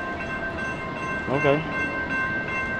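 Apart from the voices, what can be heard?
train passing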